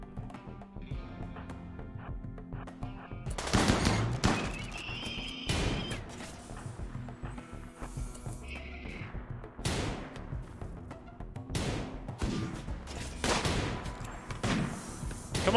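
Sniper fire in a video game, several sharp loud shots spaced a few seconds apart over a busy background of game sounds, with no talking.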